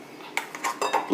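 Ground black-eyed pea batter for vada is scraped into a mixer bowl, giving a string of short metallic clinks and scrapes of a spoon against the steel bowl, close and fairly quiet, growing busier toward the end.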